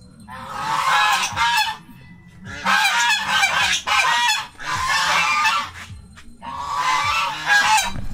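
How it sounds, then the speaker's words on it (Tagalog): Geese honk loudly in four long, raucous bursts separated by brief pauses, close by and dominating the scene with no talking over them. "Kahit maingay kayo, Merry Christmas pa din sa inyo mga gansa."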